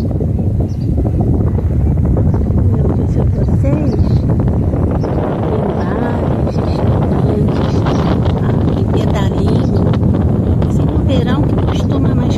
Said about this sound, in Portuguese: Tá ventando bastante hoje aqui.